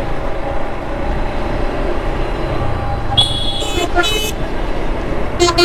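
A newly installed Denso horn on a motorbike, giving several loud, close honks of different lengths near the end over a steady engine and road hum.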